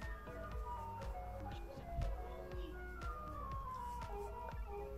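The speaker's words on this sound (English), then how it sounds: "ice cream van" An ice cream van's chiming melody plays outdoors, a steady tinkling tune with faint background noise.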